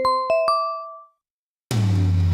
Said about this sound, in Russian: Колокольчик — это лучшее, что может выдать FM-синтезатор.